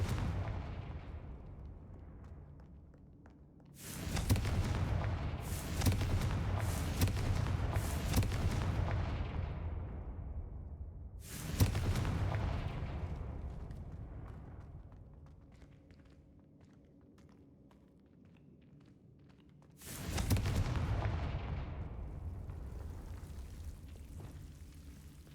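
Confringo blasting spells in Hogwarts Legacy set off three heavy booming explosions spaced several seconds apart, each a loud close blast trailing into a long rumbling decay.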